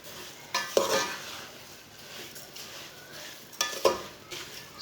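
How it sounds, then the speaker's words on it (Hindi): Sugar stirred into semolina halwa in a pan, soft sizzling beneath a few scraping strokes of a spoon across the pan bottom, close and fairly quiet, with no speech. "मिक्स कर लेंगे"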